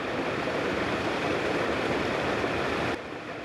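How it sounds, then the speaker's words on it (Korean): Muddy stream water rushing down a valley during heavy rain at a military survival training ground: a dense, loud, continuous roar of flowing water and rain, steady until it drops slightly near the end, no talk. "졸졸 흐르던 골짜기의 물은 이미 흙탕물이 되어 쏟아져 내리는 생환 훈련장"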